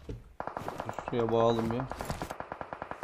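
Rapid gunfire crackles in an online multiplayer shooter match as evenly spaced bursts of shots, with someone talking over the shooting partway through.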